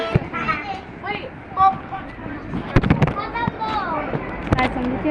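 Fireworks crackle and pop in scattered bursts on bonfire night, while children chatter and call out excitedly nearby over outdoor background noise.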